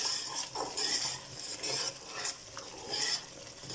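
A vegetable and spice masala for aloo matar is stirred in a pan over high flame, with rhythmic spatula scrapes and metallic clinks repeating every half second or so over a low, quiet sizzle.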